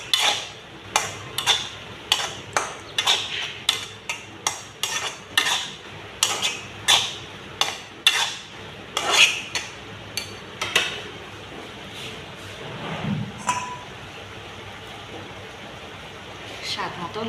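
A metal spoon repeatedly scrapes and knocks against a cooking pot while red chilli powder and turmeric are stirred in, giving a brisk run of sharp clinks in an uneven rhythm that slows near the end, set close against a faint background hum.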